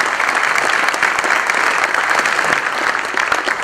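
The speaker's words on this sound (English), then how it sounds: "So a round of applause for all our awesome sponsors and media partners." A conference crowd at an Android developer barbecue keynote claps for the event's sponsors and media partners, giving sustained, dense applause at full volume throughout with no speech on top.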